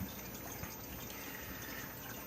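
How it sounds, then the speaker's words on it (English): A saltwater aquarium pump runs steadily, moving water through an overflow with a soft, continuous gushing and trickling wash, faint and unbroken throughout, with no one talking. "that air pump or water pump that basically pumps the air out of this right here and pumps the water out to keep this overflow good"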